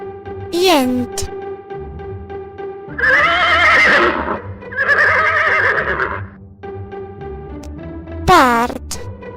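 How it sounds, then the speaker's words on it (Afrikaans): A horse on a farm whinnies loudly twice, once at the start and again near the end, each call a shrill falling neigh; other voiced calls fill the middle stretch. "Paard."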